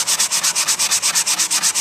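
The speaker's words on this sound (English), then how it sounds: "So I'm going to start sanding away, not where it's at, but build up some sawdust." Wood being hand sanded with 120 grit sandpaper on a storage chest, a close, loud rhythmic scratching of quick even back-and-forth strokes, about eight per second.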